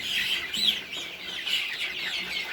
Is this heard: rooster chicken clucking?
yes